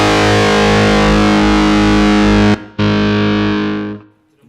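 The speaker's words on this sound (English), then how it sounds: "let's see how this cab simulation sounds" A guitar runs through a Joyo Chopper-Z distortion pedal with its cab simulation, straight into an audio interface. It plays a loud, saturated sustained chord that cuts out briefly, comes back and then fades away.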